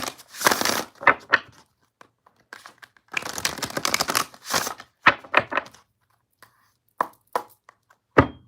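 Crisp bursts of riffling tarot cards, several quick shuffles with pauses and soft taps between them, close and clear with no talking.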